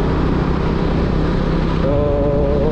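A KTM Duke 250 BS6 motorcycle with its dB killer removed idles and revs with a steady, loud, rough exhaust drone throughout, and a rising whine joins near the end.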